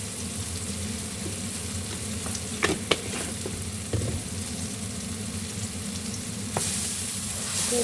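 Onions and chilli powder sautéing in oil in a pot for fish gravy, a steady close sizzle with occasional sharp spoon knocks and scrapes, and no voices.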